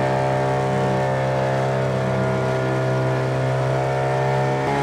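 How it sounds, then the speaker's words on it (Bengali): A motorboat on a lake tourist ride passes by with a steady, loud droning engine hum, constant throughout and close, with no talk over it. "ওই হচ্ছে মোটর বোট যাচ্ছে।"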